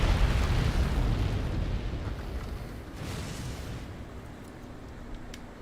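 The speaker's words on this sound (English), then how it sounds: "We have a feline barrel bomb." A feline barrel bomb blows up in the video game Monster Hunter Stories 2, a deep rumbling blast that opens loud and then slowly fades into a dull roar with no voices.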